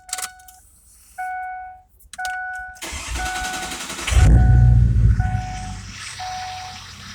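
A truck with 269,201 miles and 6,920 engine hours cranks and fires up after a couple of short starter attempts, settling into a loud, close rumbling idle with a faint electronic chime repeating through it.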